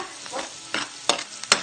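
Garlic frying in oil for pork sisig, close and crackly, with a few sharp scraping stirs and spatters over a low sizzle in a short burst.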